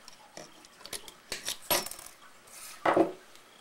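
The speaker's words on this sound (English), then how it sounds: "I'm going to take my wire cutters and cut off the excess" Wire cutters snip off excess wire while a bead annealer coil is replaced, giving a few sharp, close metallic clicks and snaps spaced irregularly against quiet surroundings.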